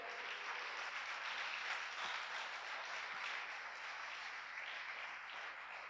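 A congregation at a Christian church sermon breaks into sustained applause, a dense, even wash of clapping lasting several seconds at moderate distance, with no voices over it.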